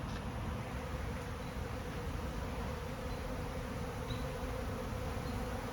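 Honey bees buzz through a honey extraction room, where supers are stacked during the harvest, a dense continuous drone of many insects close by, steady and unbroken, with a few individual bees passing near now and then and no talking.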